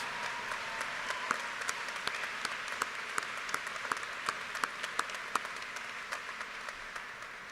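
Steady applause from a graduation ceremony audience, dense clapping with scattered sharper claps standing out, sustained and moderately distant throughout.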